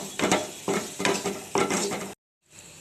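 Ground red chili sizzling in hot oil for a dried fish (chepa) dish, heard as four loud stirring bursts of crackling frying, a brief silence, then the sizzle returning, with no voices.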